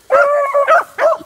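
A pack hound, an anchor dog from a competitive couple pack, gives a few drawn-out, whining bays close by, with two shorter yelps following the first long cry.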